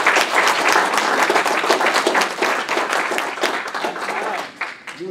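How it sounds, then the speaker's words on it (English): An audience at a talk on Apollo maneuvers to the Moon gives a sustained round of applause, dense and even clapping from many hands that holds steady and tapers slightly at the end. "All right, round of applause to Jeff."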